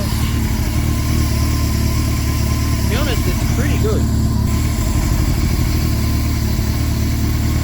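A Honda CBR1100 Blackbird motorcycle engine idles with a steady low rumble throughout while someone talks briefly over it.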